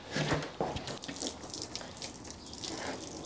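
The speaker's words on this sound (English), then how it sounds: "I turned on the water without stopping it." Water gushes steadily from a hose rinsing down a car at a drive-through car wash, a close continuous splashing spray with a few brief knocks near the start and no talking.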